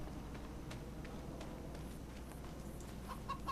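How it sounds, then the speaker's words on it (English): Chickens clucking in the video game Farming Simulator 25, faint and intermittent over a steady low ambient hum, with a few short clucks near the end. "Hello, little chickens."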